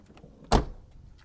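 A door on a Jeep Cherokee XJ with worn hinges gives a single sharp crack or pop as it moves, close and loud, standing alone against a quiet background.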